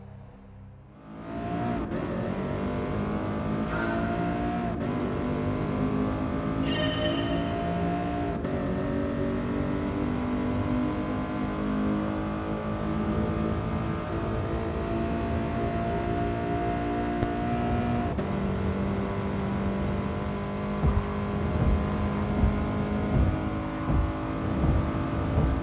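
A 2017 Lexus LC500 in Gran Turismo Sport on a Tokyo timed rally, its engine droning loudly and steadily for the whole stretch, with rising and falling revs and gear changes, no talk.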